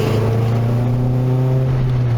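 A Nissan Sunny N13 with a CA18DE engine running with steady harmonic engine tone, loud and close, holding a fairly even pitch throughout with no talk.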